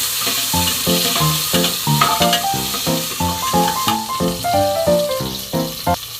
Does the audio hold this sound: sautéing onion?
yes